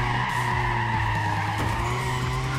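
Tires squealing as a car drifts and skids under braking in the racing game Need for Speed ProStreet, a sustained tonal screech over engine hum, loud and continuous.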